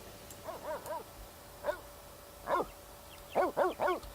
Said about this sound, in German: Ja, sag mal, wer kläfft da?